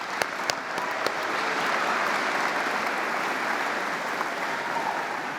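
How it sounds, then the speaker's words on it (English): A packed hall at a state FFA convention breaks into dense, steady applause, a few sharp claps at the start before the sound swells into an even, continuous wash of clapping. "give them a round of applause."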